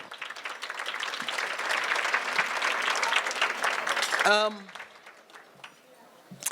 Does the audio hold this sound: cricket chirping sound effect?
no